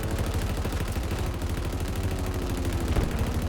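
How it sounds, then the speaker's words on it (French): Rapid, continuous machine gun fire from a Warthog turret in the Halo video game rattles on without pause, loud and dense throughout. "Ah, la tourelle c'est Starkill"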